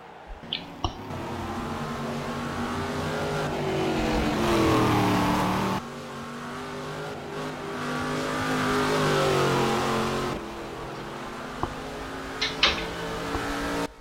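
Race car engine lapping the Velopark circuit, a steady droning roar that rises and falls as the car passes and shifts, with a few sharp clicks, continuous and fairly loud without talk.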